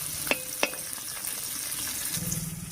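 Dried red chillies and garlic sizzle in oil in the centre of a pan alongside sweet pumpkin, a constant close frying hiss broken by a few crisp pops and clicks near the start and end, with no talking.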